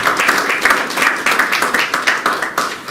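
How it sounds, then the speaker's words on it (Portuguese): Steady clapping from a crowd fills the clip, dense and continuous at even volume, with no speech over it. "Uma salva de palmas para o Ascenso."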